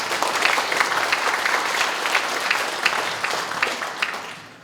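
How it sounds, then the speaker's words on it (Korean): An audience at a Korean public talk on government budgets and research projects breaks into sustained applause: a dense, steady wash of many hands clapping that tapers slightly toward the end, with no speech over it. "우리가 잘했다고 박수 한번 칩시다"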